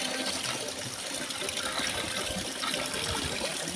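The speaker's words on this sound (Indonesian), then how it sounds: "Airnya ini sangat asli dari pegunungan." Mountain spring water flowing steadily at a camp in Cidahu, Sukabumi, a continuous close rushing splash with no talking over it.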